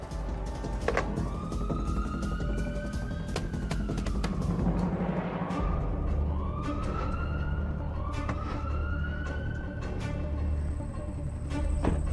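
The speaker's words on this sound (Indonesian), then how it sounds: "Kami kirim ambulans sekarang ya." An ambulance siren wails in rising and falling sweeps over steady road traffic, loud and continuous for the whole stretch, with no talking.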